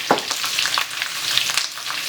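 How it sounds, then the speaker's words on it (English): Mixed peppers and white onion fry in a pan with a steady, close hiss and crackle, and occasional stirring, with no talk over it. "I'm gonna put them straight inside of it like this. So we're gonna fry them off."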